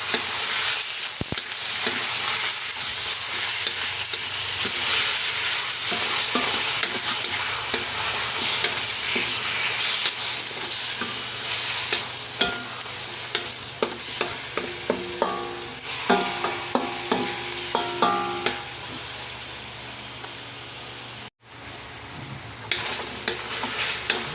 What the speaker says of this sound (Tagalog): Ang paggisa ng karne ay hindi minamadali mga kapudi para ito ay hindi malansa.